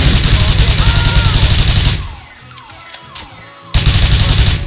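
A shootout in GTA IV bursts with loud rapid automatic gunfire, then breaks into a short quieter stretch of scattered shots and impacts before the heavy firing resumes, close and dominant throughout.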